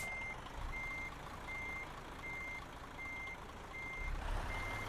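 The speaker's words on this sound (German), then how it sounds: "Ich habe keine Ahnung, wie man mit dem LKW rückwärts fährt." Truck reversing alarm in the driving game Euro Truck Simulator 2, a steady series of evenly spaced high beeps over a continuous low engine rumble, fairly loud and with no voices.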